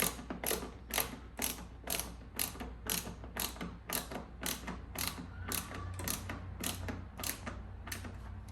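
A hand tool ratchets screws back into the air box of a 2022 Dodge Charger GT during a Hellcat air box conversion, with a rapid, even series of sharp mechanical clicks close by and alone.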